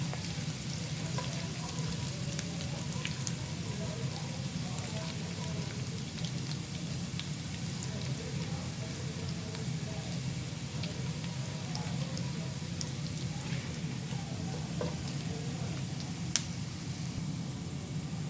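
Garlic sautéing in a pan, a steady dense sizzle with faint stirring scrapes running unbroken at close range, no voices over it.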